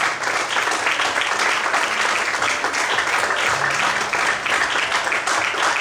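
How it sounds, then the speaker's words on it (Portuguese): Worshippers in a church service applaud together, a loud continuous patter of many hands that holds steady, with soft instrumental tones sounding beneath it. "Aplaude o Senhor."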